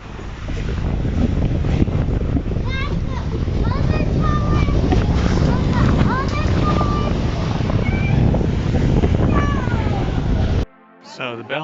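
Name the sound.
strong wind at the top of the Belfort tower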